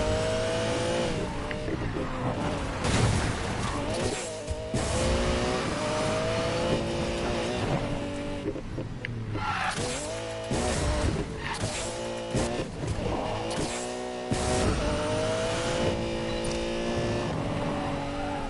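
A Lamborghini Murcielago supercar in Need for Speed Payback revs hard and drifts, with its engine rising and falling through sustained loud runs and brief gaps, with tire noise mixed in.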